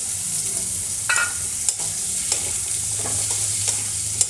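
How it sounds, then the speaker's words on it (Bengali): Potatoes and onions frying together in a pan with crab, a steady close sizzle broken by a few sharp stirring scrapes and clinks. "এই অবস্থায় আমি আলুগুলোকেও একসাথে দিয়ে দেব আর একসাথেই ভেজে নেব।"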